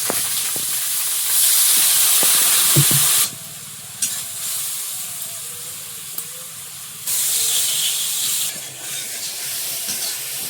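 Water poured into a hot pan of chopped tomato and ground turmeric, chili, cumin and coriander, giving bursts of loud hissing steam and sizzle that rise and drop in waves.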